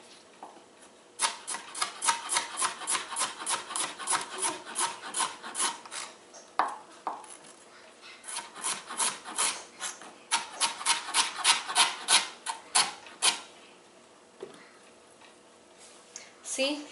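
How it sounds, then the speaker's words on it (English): A knife slices ginger into thin pieces in quick, even strokes, two long runs of rapid cuts separated by a brief pause, close and clear, with a voice talking around them. "here we have the ginger, for example. Okay, so when you cut, I'm going to cut them in slices across"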